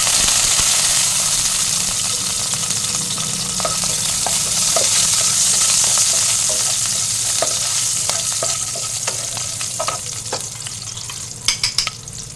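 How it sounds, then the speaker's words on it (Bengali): Green chillies and black cumin seeds spitting in hot oil in a wok, a loud close sizzle with scattered sharp pops and crackles and stirring, growing busier toward the end, no speech. "আর কটা কাঁচা লঙ্কা দিয়ে দিলাম।"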